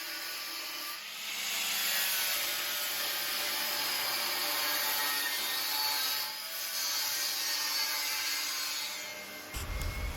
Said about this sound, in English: that was just sanding the underside